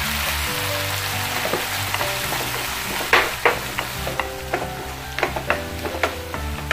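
Masala for Kerala-style chicken 65 sizzles steadily in a frying pan, a close hissing bed broken by a series of sharp scraping knocks as it is stirred.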